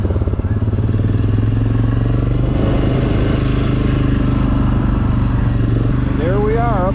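An ATV engine running steadily while riding back toward a lakeside campground, a loud close droning putter with rhythmic low pulses and clattering chassis, holding even throughout while a voice sounds near the end.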